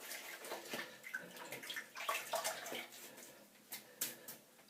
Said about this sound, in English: Let me rinse out my brush.